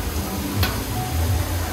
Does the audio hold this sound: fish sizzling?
yes